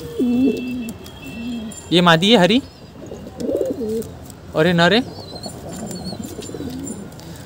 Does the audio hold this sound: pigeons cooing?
yes